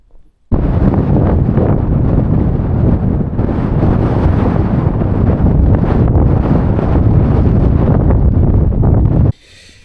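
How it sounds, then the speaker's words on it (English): Blustery wind buffeting a wild campsite high in the hills at night, a loud continuous roar and rush of gusts against the microphone for most of the stretch, starting and ending abruptly. "A little bit of wind out there, nothing too much, just the usual sort of blustery wind that you get up at this altitude."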